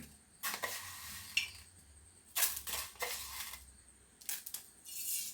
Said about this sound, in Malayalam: കുറച്ച് കടുക് ഇടുകയാണ്.